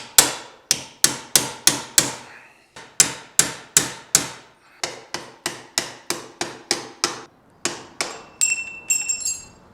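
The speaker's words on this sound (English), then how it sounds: "I've got a couple of chisels and a couple of different size screwdrivers, so we'll just try give it a wee bash" A hammer strikes a chisel to knock out a head bearing race on a Kawasaki VN1500 Meanstreak motorcycle. Sharp metallic blows land in quick bursts of four to six, close and loud, with faint clinking near the end.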